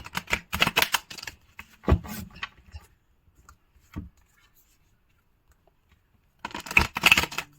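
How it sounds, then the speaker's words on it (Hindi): Tarot cards being shuffled by hand in quick riffling bursts, a dense run at the start, scattered flicks, a long quiet gap, then another brisk shuffle at the end. "चलिए एक शफलिंग और कर लेते हैं"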